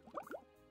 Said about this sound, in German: Und kippen genug Wasser nach.